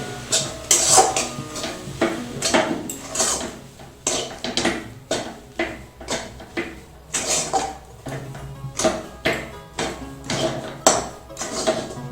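Rice flour is stirred into boiling water in a pot, with repeated scraping and knocking strokes of a utensil against the pot in an even rhythm.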